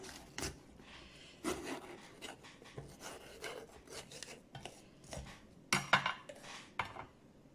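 A knife cutting the stem crown off a raw bell pepper on a board, a series of close, short rasping cuts and scrapes with small knocks, fairly quiet and uneven in rhythm, no talking.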